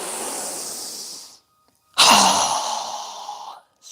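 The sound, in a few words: strong exhale through the mouth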